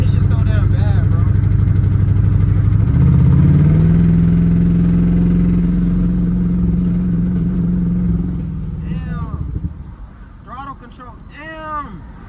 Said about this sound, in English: y'all hear this car, bro?